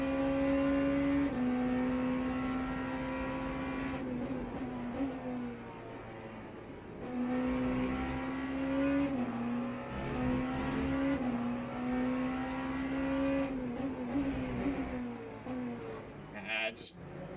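A Porsche 963 hybrid prototype race car in the racing game Le Mans Ultimate drives on slick tires, its engine note climbing and dropping through gear changes and braking, with a voice talking over it.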